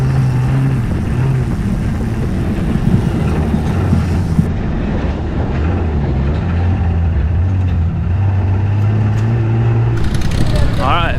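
A 1981 Toyota pickup off-road race truck with a 22RE engine running on propane launches off the line at an Ultra 4 event at an off-road park, its engine roaring loud and continuous while a commentator talks over it.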